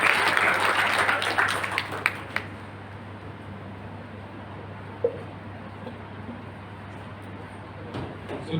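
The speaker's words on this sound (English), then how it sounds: "Once again, give big round of applause to Sangappa." Audience applause for a speaker at an entrepreneurial skills training session at UHS Bagalkot: a dense burst of clapping for about two seconds that quickly dies away, leaving a steady low room hum.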